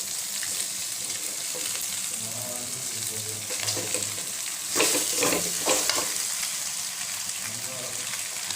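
Macaroni stirred with egg in a hot frying pan, a steady sizzle under scraping and stirring strokes, close up, with some speech in the background.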